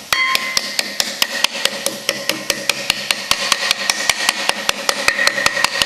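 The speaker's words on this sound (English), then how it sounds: "We bump that seal in there with a hammer" Sharp metallic hammer taps drive a wheel bearing seal into place at a steady, fairly quick rhythm, close and loud, with a faint engine-like hum underneath.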